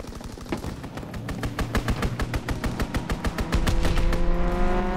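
Strafing-run machine gun fire in a World War II shooter game: a rapid, loud, evenly spaced burst of shots lasting several seconds, followed by a heavier low rumble as the barrage ends.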